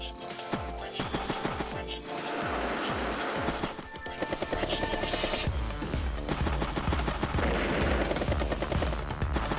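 Battle copters attack in the Advance Wars: Days of Ruin video game, with rapid bursts of machine-gun fire and thumping impacts repeating over a driving game soundtrack.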